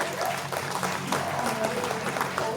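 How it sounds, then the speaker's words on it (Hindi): Audience applause at a testimonial ceremony in Assam, a dense steady clatter of many hands through the whole stretch, with faint talk mixed underneath. "एक जोरदार ताली होना चाहिए"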